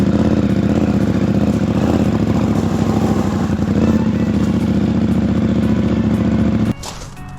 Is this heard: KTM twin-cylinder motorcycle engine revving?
yes